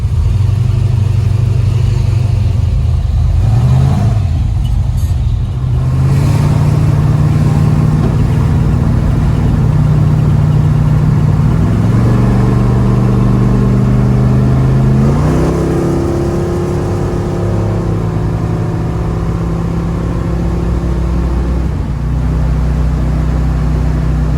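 A 1972 Chevrolet Nova with a big block engine cruising, its loud steady drone rising and falling through gear changes and accelerating from close inside the car, with no talk.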